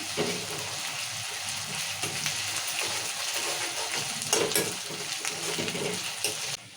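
Ginger-garlic paste frying with onions in a pan, a steady loud sizzle with occasional scraping stir strokes near the end, no talking.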